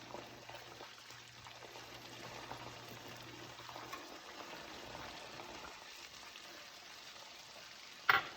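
Almonds fry in separated oil for sooji halwa, a faint, steady low sizzle and bubbling heard close up with no voices, ending in a brief louder clatter.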